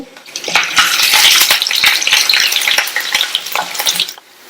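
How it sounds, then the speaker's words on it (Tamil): Curry leaves, thinly sliced garlic and cut dried chillies hit hot oil with a loud, close, bursting sizzle and crackle, spitting densely at first and then easing off near the end, with no voices. "இது கூட கறிவேப்பிலை, 4 பூண்டை மெல்லிசா ஸ்லைஸ் பண்ணி வச்சிருக்கேன், அதை சேர்த்துட்டு 2 கட் பண்ண காஞ்ச மிளகாவும் சேர்த்து"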